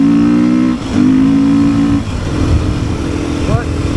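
A Beta 500 RS dirt bike engine drones loudly up close, its pitch holding steady, dipping briefly and then climbing again as the rider works the throttle.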